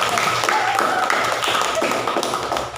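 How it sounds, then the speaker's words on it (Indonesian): Classmates in a classroom give brief, dense applause, a steady patter of clapping hands with some voices mixed in. "Beri aplaus dulu dong para teman kita"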